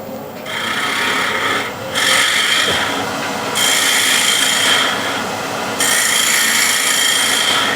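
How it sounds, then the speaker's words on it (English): A wooden handle scraped by hand to shape a curve, a steady rasping close up in three long strokes that run back to back with short breaks between them, no talk. "So with each scrape I'm bringing the handle to the right, so I get that curve."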